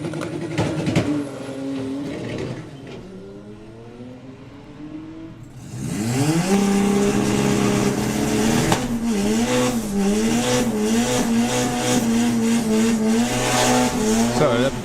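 A blue Golf and a blue Porsche launch off the line at a drag strip, engines roaring loud and close with rising, shifting revs and tire noise, while a commentator talks over it.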